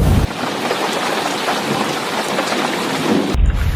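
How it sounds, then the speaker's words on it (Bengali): Steady heavy rain pours down with a low rumbling thunderstorm in the background, a dense continuous wash of sound that shifts abruptly near the end. "সাথে সাথে বৃষ্টি নেমে দেয়।"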